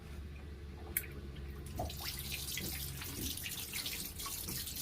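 Steady rush of water through the cooling line of a genset on a 34 LS Tiara boat, a continuous broadband flow with a brief splash early on and slight surging, close and moderately loud throughout.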